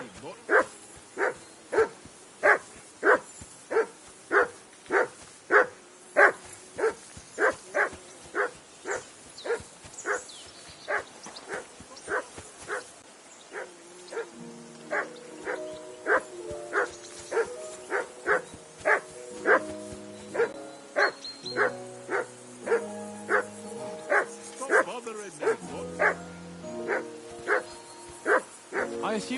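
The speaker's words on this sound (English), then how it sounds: "I assume you can hear that damn dog of yours barking." A dog in Kingdom Come: Deliverance 2 barks in a steady, repeated rhythm throughout, joined partway by plucked medieval-style music beneath the barks.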